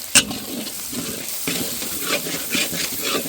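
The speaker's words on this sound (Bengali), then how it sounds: "আমরা ফোড়ন দিয়ে দিচ্ছি, তেজপাতা, গরম মশলা," Bay leaf, garam masala and dried red chillies hit hot oil with frying onions, making a steady close sizzle with scraping stirs and a sharp clink at the start.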